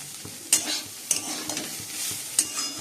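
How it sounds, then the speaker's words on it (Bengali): Bitter gourd, potato and onion frying in a pan, a steady soft sizzle broken by a few sharp scraping stirs, close and moderately quiet, with no talking. "আমরা উচ্ছে আলু পেঁয়াজ ভাজা হয়ে গেছে"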